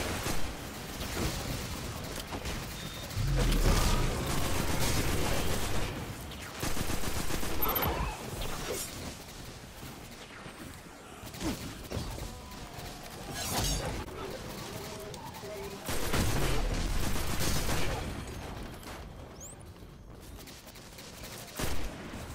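Bursts of gunfire from a weapon in the sci-fi shooter game Destiny 2, loud cracking volleys spaced by quieter gaps, with game effects and a voice underneath.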